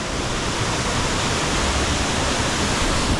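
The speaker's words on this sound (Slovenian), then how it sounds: "čudovit slap" A waterfall in the karst landscape of Croatian Istria roars as a steady, dense wash of falling water, loud and close, filling the scene without voices.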